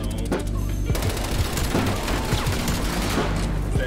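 Rapid automatic gunfire from an AK-74U in the video game Call of Duty: Black Ops Cold War, a loud, dense stream of shots sustained throughout with brief explosive bursts.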